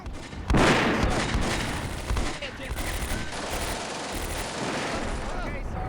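Gunfire and fusillades in the WWII strategy game Combat Mission: Beyond Overlord, a loud burst of volleys at the start followed by sustained rattling small-arms fire and distant booms throughout.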